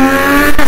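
A voice imitates a Toyota Supra fitted with an MA Performance exhaust, a brief loud, tonal engine drone with a sharp rise near the end, heard alone and close.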